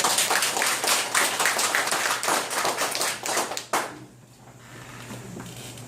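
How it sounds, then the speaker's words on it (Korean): Audience at a company lecture in Busan claps in a dense, loud burst of applause for about four seconds, then it cuts off abruptly, leaving a quieter room hum and a few faint scattered sounds. "박수 한번 부탁드립니다."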